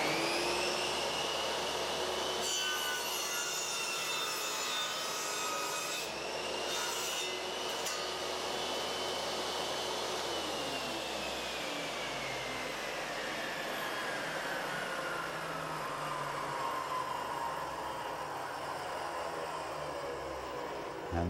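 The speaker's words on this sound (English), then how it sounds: "put a little bit of pressure down here and make the cut" A power saw on a Triton Workcentre cuts through wood with a continuous loud motor whine and rough rasping drone that holds for about twenty seconds, its pitch sliding slowly lower as the blade works through the cut, with no voices.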